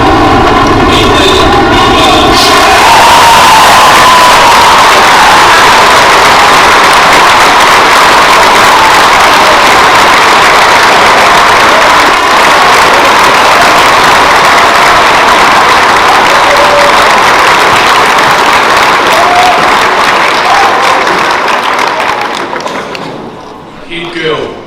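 A large crowd at a school senior prizegiving claps loudly and steadily for over twenty seconds, a dense continuous roar of applause that tapers off at the end.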